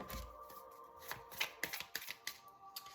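Lenormand cards being shuffled by hand, quiet papery riffles and flicks in a soft irregular patter, faint and close with no speech.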